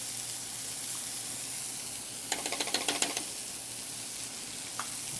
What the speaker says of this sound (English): We're going to go ahead and flip that over. Again, we're going to add in just a little bit of butter.